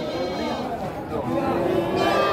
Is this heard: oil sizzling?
no